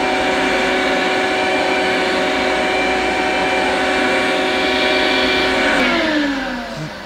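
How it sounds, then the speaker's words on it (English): Motorized hand vacuum pump sealing a can, a loud steady whine that holds for several seconds, then drops in pitch and fades as the seal pulls down. "This hand pump thing"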